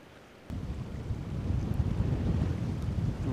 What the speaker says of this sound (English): That wind's not helping.